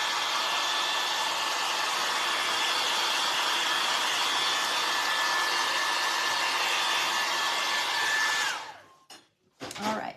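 A hair dryer blows on wet paint on a no-sew vintage farmhouse Christmas craft penguin, a loud, steady whirring rush held for about eight seconds before it cuts off, followed by a few brief handling noises.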